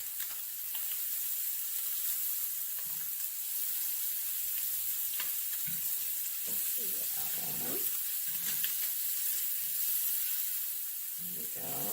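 Scallops searing in a hot pan give a steady, soft sizzling hiss throughout, with occasional faint clinks and scrapes of handling nearby and a brief word or two of speech.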